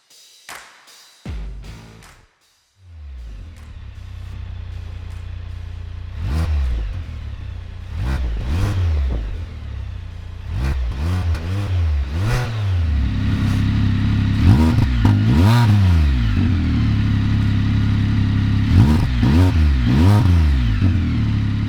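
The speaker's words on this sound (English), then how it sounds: "looking for a Spyder F3-T or F3L touring exhaust that sounds right" A Can-Am Spyder F3-T three-wheeled motorcycle with a Thermal R&D cat-back exhaust idles, then revs repeatedly through the loud, throaty exhaust, each rev rising and falling, up close.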